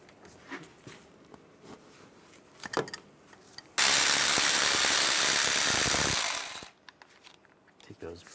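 A 19mm socket wrench loosens the brake caliper bolts on a 2007-2013 Chevrolet Silverado 1500. Scattered light clicks and taps lead into a loud, continuous grinding rattle of almost three seconds, followed by a few more faint knocks.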